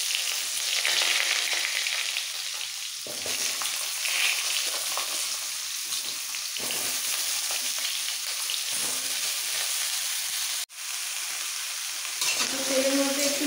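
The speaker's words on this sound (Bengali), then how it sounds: "ফোড়নটা একটু ভেজে নেওয়ার পর এর মধ্যে সবজিগুলো দিয়ে দেবো" Vegetables such as potato, pumpkin, eggplant and radish frying in oil with tempering spices, a steady close sizzle with occasional stirring scrapes and a brief clatter near the end.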